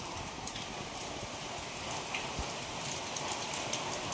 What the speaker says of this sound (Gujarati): હું પાછળ બતાવું છું વરસાદ